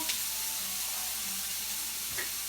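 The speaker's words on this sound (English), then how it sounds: "You can hear the sizzle." A steady, broad hiss of onions sizzling in hot olive oil in a pan fills the clip, with a couple of soft clinks near the end.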